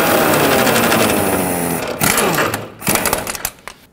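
A power tool drives a jam nut onto the inner tie rod of a 2009-2014 Honda Fit, a loud whirring burst that cuts out and restarts in short, uneven pulses near the end.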